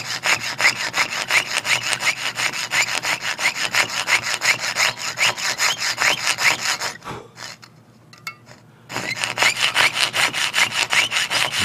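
Steady back-and-forth sawing while cutting a new contrate wheel for a carriage clock, close and loud with a quick rhythmic rasp, pausing briefly near the end before resuming.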